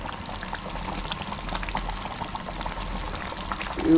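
Punugulu fritters drop into a simmering potato curry, with a soft steady bubbling and liquid burble close by, swelling slightly at the end.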